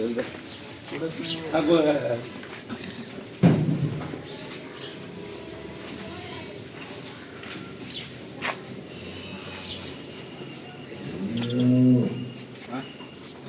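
Cows and calves at a farm give a few short moos, one near the start and another toward the end, with a sharp knock between and a person talking throughout.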